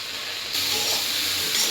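Vegetables sautéing in a pan after salt and cumin powder go in, a broad close hiss that grows louder partway through and holds steady for under two seconds, with no voices.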